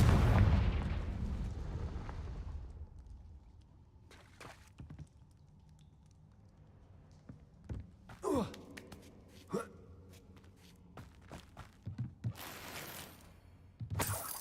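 A Confringo spell blast goes off in Hogwarts Legacy: a loud burst at the start decays over a few seconds, then sharp crackling impacts and effects come at scattered moments.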